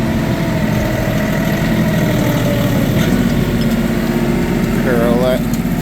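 A Kioti NS 4710 tractor engine holds a steady, throaty idle-like rumble at about 1500 RPM, continuous and close, with a brief higher whine near the end.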